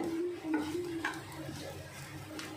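Egg, potato and onion frying in a pan, a soft low sizzle with scattered utensil clinks and stirring, faint and close under a quiet background tone.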